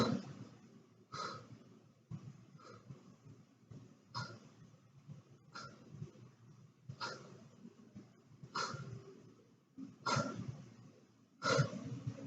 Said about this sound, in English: Don't forget breathing.